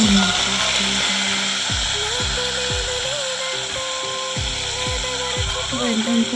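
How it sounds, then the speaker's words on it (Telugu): Cumin seeds and fenugreek leaves sizzle in hot oil in a pan, a constant loud hiss with repeated scraping stirs of a utensil and a low hum underneath. "కాస వేడెక్కిన తర్వాత జీలకర్ర వేసి మెంతికూర"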